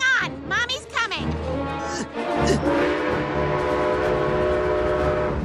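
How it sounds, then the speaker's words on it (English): An animated cartoon train, upside down, roars past with whistle-like horn blasts and rumbling wheels, loud and close, following a burst of cartoon voices and clatter at the start. "Oh no! Upside down train!"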